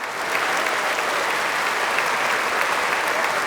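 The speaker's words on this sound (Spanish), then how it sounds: "Un aplauso al Señor por esto." A church congregation applauding loudly and steadily, dense clapping filling the space without pause, close by and unbroken throughout.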